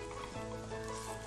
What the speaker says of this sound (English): just sauteing onion